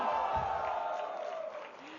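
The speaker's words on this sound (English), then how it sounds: "please give a round of applause to Anand Ranganathan" An audience at a live debate event breaks into applause and cheering, a brief crowd roar with voices rising over it before tapering off.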